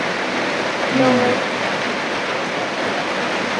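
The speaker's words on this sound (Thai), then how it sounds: "ฝนตก" Steady, dense hiss of heavy rain on a leaking house roof fills the whole stretch, with a brief faint voice near the start.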